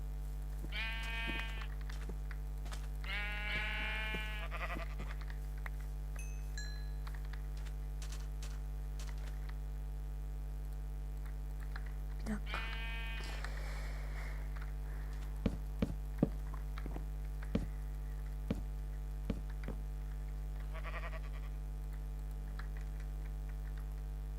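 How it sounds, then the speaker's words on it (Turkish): Sheep bleating in the video game Minecraft, three bursts of wavering bleats in the first half over a constant low electrical hum, followed by sparse clicks. "Üç tane koyunumuz var."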